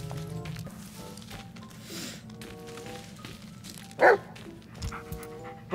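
A dog in the Blair Witch video game pants steadily, with a single short bark partway through, fairly close over a low background game ambience.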